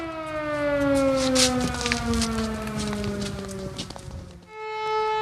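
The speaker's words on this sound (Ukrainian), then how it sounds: "І ось, будь ласка, усе за законом жанра лунає сирена." An air raid siren wails in Ukraine with a sustained, slowly falling tone that dips and then rises again near the end, loud and close with no talking.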